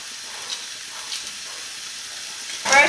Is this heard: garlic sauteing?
yes